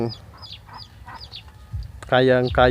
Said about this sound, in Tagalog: At ito mga kapatid, may isang sisiw tayo ngayon mga kapatid.